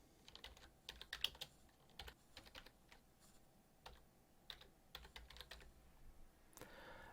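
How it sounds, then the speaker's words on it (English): Typing on a computer keyboard, quiet irregular clicks and short bursts of keystrokes close by with no talk. "You can type it directly."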